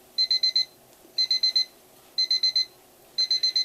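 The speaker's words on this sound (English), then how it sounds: "My alarm clock is starting here." Electronic alarm clock beeping in four evenly spaced bursts of four quick, high, piercing tones, with a faint steady background hum between bursts and no talking.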